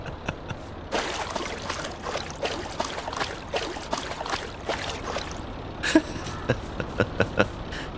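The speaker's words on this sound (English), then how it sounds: "got the dog swimming in the pond" Dog swimming in a pond in Farming Simulator 22, with soft sloshing and trickling water splashes repeating at an irregular rhythm, close and moderately loud, with no talk.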